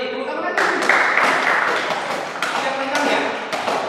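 Classroom applause from students during a lesson on engine valve maintenance, a dense run of hand claps filling the clip at steady volume, with a voice speaking over it.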